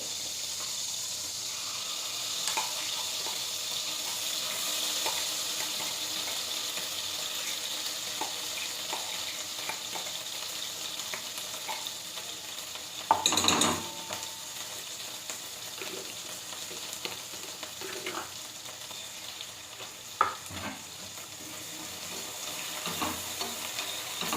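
A tomato and coriander paste sizzles steadily in hot oil and butter for butter paneer masala, a constant hissing fry with occasional sharp clinks and scrapes of stirring, close and alone with no talking.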